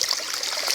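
Stream water at the Cachoeira da Serrinha waterfall in Carmo do Cajuru trickles and burbles close by at the water's surface, a loud, continuous babble with no voices.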